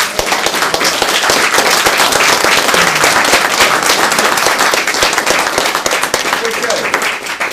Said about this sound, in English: Thank you for the warm applause.